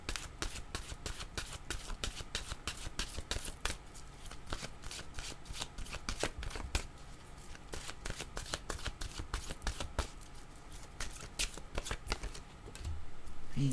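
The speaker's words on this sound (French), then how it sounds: "Je vais demander une carte de mon oracle de l'âme intuitive." Oracle cards are shuffled close up in a long run of quick crisp riffling snaps and flutters, steady and fairly quiet throughout.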